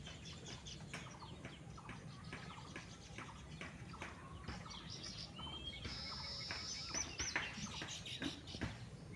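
A karmi bird chirps at its nest in a coconut tree, small quick tweets repeating over steady outdoor background noise, fairly faint and at a distance.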